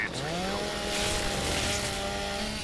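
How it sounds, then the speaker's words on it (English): Lancer rifle chainsaw revving in Gears of War 2, a loud, continuous buzzing whine with rising and wavering pitch, sustained throughout over faint background game noise. "Now, how was the chainsaw again?"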